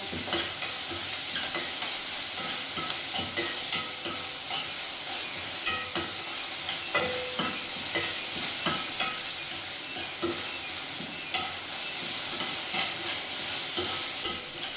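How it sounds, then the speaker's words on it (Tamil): Onions and tomatoes frying with curry leaves in a pan, a steady close sizzle with stirring scrapes and small pops throughout, no voices. "எதுக்காக உப்பு போடுறோம் அப்படின்னு பார்த்தீங்க அப்படின்னா வெங்காயமும் தக்காளியும் சீக்கிரம் ஃப்ரை ஆகிறதுக்குங்க."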